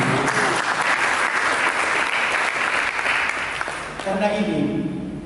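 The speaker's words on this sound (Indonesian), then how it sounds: "Berikan tepuk tangan." A church congregation applauds together in a loud, dense wash of clapping that holds steady for several seconds, then thins out as a voice and some tonal sound take over near the end.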